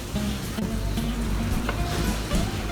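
Onion frying in a pan for an eggplant pizza, a steady close sizzle with faint scraping stir sounds running throughout, no talk.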